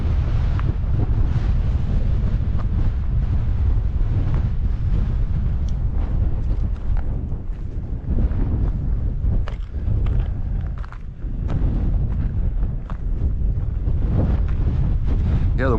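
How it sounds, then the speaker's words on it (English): Strong wind gusts roar and buffet a microphone on a hiking rim overlooking Echo Basin near sand dunes, a dense, continuous rumble that swells and dips slightly with no voices. "the wind gusts, they seem to be getting stronger"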